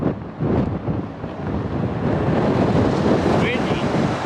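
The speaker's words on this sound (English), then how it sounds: "The winds are just crazy, super strong gusty winds right now." Strong, gusty cold wind buffets the microphone with a continuous loud roar while walking into a small town in Japan, rising and falling in surges with no voices.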